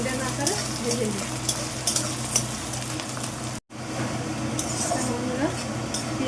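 Sliced onion frying in a pan until golden, with a continuous close hiss and sizzle and a few faint clinks of stirring. The sizzle breaks off briefly partway through, and a faint voice is heard at moments.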